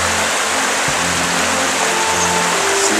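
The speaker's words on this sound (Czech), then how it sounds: "Slyšíte, jak voda ruší." Steady, loud rushing of the Kamenice river in Tanvald, a continuous broadband roar of flowing water with no pauses, heard close by and without voices.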